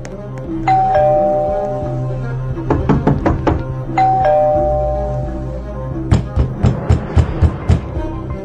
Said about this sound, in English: It seems like the doorbells have stopped ringing.